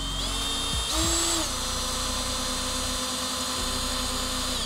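Power driver tightening a screw into a wall panel during a home WiFi access point install, a loud close whine that starts, dips briefly, then runs on steadily with a constant high motor tone.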